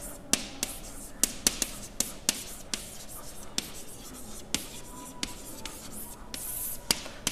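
Chalk or marker strokes on a board as a heading is written, a steady series of sharp taps and scratchy strokes in an even rhythm, close and clear with faint room tone between.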